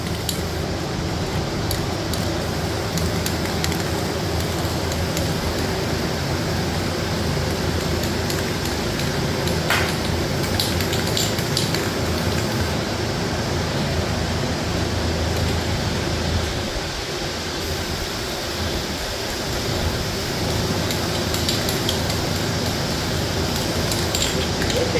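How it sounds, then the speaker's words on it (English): A spray gun hisses continuously while painting a motor, a steady, even rush of air and paint that carries on without pause for the whole stretch. "Well, I gonna spray it over here."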